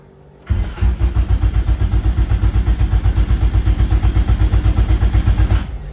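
A 1995 Acura Integra engine cranks steadily without catching, the starter churning in a fast, even rhythm for about five seconds, loud and close, before cutting off abruptly.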